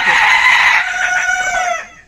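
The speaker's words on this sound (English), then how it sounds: "that sounds like a chicken on speed or something" A chicken lets out a loud, frantic, strained squawk lasting about two seconds, heard close and alone before it cuts off.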